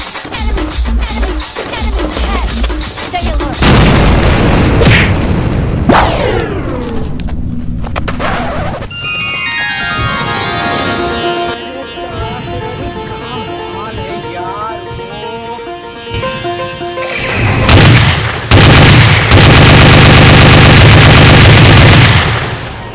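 Loud bursts of big-gun fire ring out in a PUBG game, dense rapid shots and booms mixed with engine-like rumble and electronic game sounds, close and harsh throughout.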